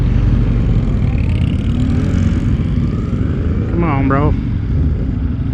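Engine of a 2025 Indian Scout Bobber motorcycle rumbling steadily at close range throughout a ride, a low continuous drone with a brief voice near the end.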